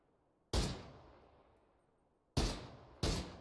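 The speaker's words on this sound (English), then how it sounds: "I literally was shooting him in the ankle" Three sharp rifle shots from a Kar-98K in the video game PUBG, the first ringing out with a long decaying tail, then two more in quick succession near the end, loud and close with no talk over them.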